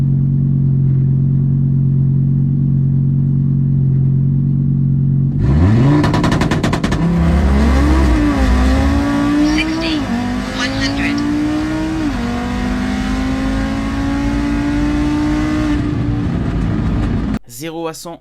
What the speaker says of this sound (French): je voulais vous montrer ces images de Romain et sa voiture sur le Run 400 de Saint-Joseph